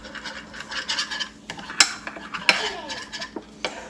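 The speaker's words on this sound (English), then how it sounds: "And now we stir." A utensil stirs lime juice and Worcestershire sauce for chicken wings, giving close scraping and clinking against the container, with a couple of sharper metallic taps amid the steady stirring.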